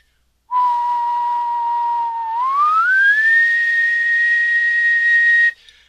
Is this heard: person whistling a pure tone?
yes